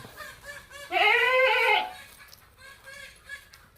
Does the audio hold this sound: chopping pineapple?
no